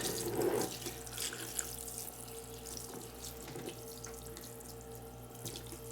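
Water draining from an in-bed head wash system, a soft continuous trickle and gurgle with a brief louder splash at the start, low and steady without voices.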